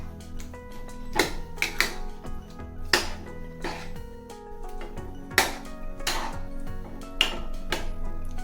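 A spoon stirring salted brinjal bharit mixture in a metal kadhai, sharp clacks and scrapes against the pan at an uneven rhythm, close up with faint background hum and no talk.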